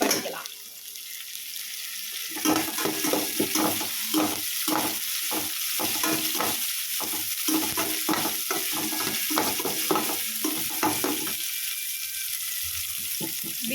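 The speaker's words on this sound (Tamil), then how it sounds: "போட்டு நல்லா வதக்கி விடுங்க" Ridge gourd kootu mixture sautéing in a pan, heard as rapid, busy stirring and scraping with a steady sizzle for several seconds before the stirring trails off into a softer hiss.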